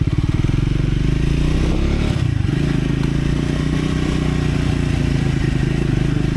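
A Triumph Scrambler 400X motorcycle engine hums steadily and loud throughout a ride, its low harmonic drone holding near constant with a brief dip and rough clatter midway before settling back.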